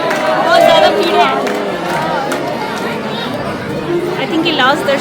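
Pilgrims packed into a Vrindavan temple fill the air with steady, overlapping chatter, many voices mixing up close with a few louder calls rising above the din.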